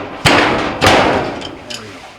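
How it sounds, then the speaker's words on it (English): Channel-lock pliers gripping a Whirlpool dryer drive motor pulley are struck forcefully twice, giving two sharp metallic thuds close up with a ringing decay, followed by fainter clicks. "in a forceful striking manner, I'm going to try to break it free."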